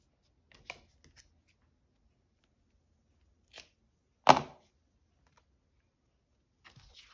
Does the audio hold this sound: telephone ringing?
no